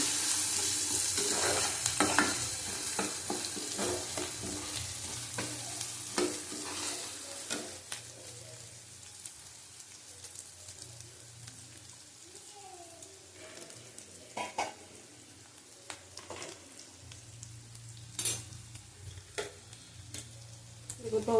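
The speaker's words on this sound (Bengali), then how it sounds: "কাশ্মীরি লঙ্কার গুঁড়ো দিলাম, ছোটো চামচ 1 চামচ। আবার কষিয়ে নেব।" Prawn masala with Kashmiri chili powder fries in a pan as it is stirred and sautéed. A soft steady sizzle runs beneath repeated close spoon scrapes and clicks against the pan.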